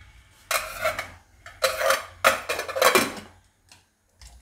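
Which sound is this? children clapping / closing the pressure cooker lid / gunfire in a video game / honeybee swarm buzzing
closing the pressure cooker lid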